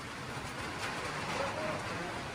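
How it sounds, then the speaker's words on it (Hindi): Heavy rain pours steadily at a hotel in Rudraprayag, a dense continuous hiss across the whole stretch, with faint indistinct sounds mixed in. "घमासान बारिश हो रही है बहुत ज़्यादा"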